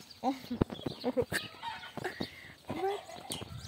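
A chicken on a family farm clucks and squawks in short, irregular bursts, close by, mixed with rustling and light background noise.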